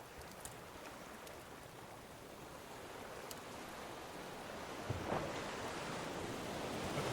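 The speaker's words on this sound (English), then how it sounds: "we got some waves" Ocean waves in the survival game Raft make a soft, steady wash of surf. The sound builds gradually louder over the seconds, with a faint swell near the end and no voices.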